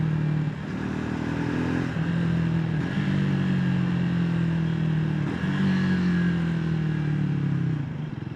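A Triumph motorcycle engine drones steadily while riding at sunset, a loud close hum with slight pitch shifts as speed changes and steady wind noise, no talk.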